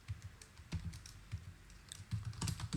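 Someone types a Python command on a computer keyboard in VS Code. The keystrokes are quiet, uneven and clicky, in small bursts with brief gaps, heard close with no talking.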